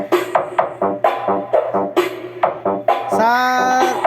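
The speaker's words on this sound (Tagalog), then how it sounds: "So yan yung Joson Neo 12 natin." Music with vocals and a punchy rhythmic pulse comes through a Joson Neo 12 loudspeaker rated 800 watts. A sustained chord swells near the end, and a faint steady hum runs underneath.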